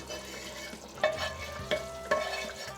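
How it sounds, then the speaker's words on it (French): Peanut paste and tomato sauce being stirred together in a pot, with soft wet scraping and three sharper spoon knocks against the cookware at a close, quiet level. "on verse le tout. Comme ça les deux sauces vont se mélanger ensemble pour faire notre sauce membre"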